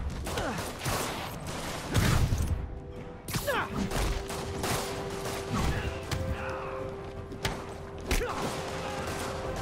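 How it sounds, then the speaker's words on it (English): Rockets fire and blast in Marvel's Spider-Man during a Sinister Six fight, a series of loud thuds, crashes and whooshing bursts mixed with mechanical clatter and in-game voices. "Chill with the rocket launchers"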